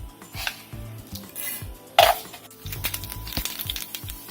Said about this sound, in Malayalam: കടുക് ഇട്ട് കൊടുക്കാം.